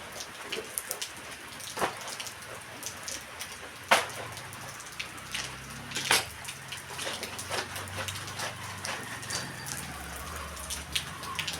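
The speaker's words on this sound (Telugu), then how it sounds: "ఇప్పుడైతే సన్న చినుకులు అయితే పడుతున్నాయన్నమాట" Light drizzle falls over a village in the morning, a soft steady patter of scattered drops with occasional sharper taps close by, no voices.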